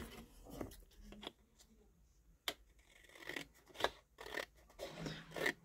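Scissors cut freehand through card stock for a pop-up greeting card: quiet, irregular snips and crisp slicing strokes come close up in short bursts, separated by brief pauses, with faint rustling of the paper.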